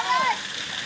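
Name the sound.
splash of someone jumping into water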